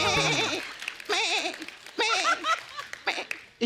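A person imitates a goat with several wavering, nasal bleats in short bursts separated by pauses. An audience laughs lightly around the calls.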